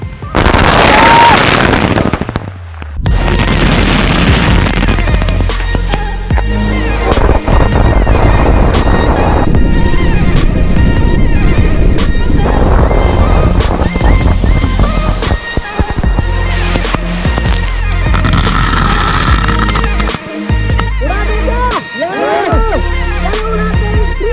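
Diwali firecrackers explode on an iPhone in a durability test, giving a loud, dense barrage of cracks and bangs that runs almost continuously for over twenty seconds, with a short lull near the start.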